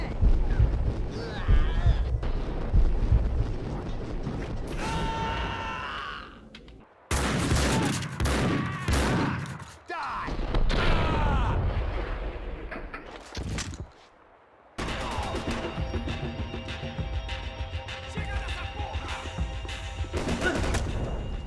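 Gunfire bursts in the video game Max Payne, rapid shots mixed with music and effects in several abrupt segments, loud and busy throughout.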